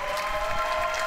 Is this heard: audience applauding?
yes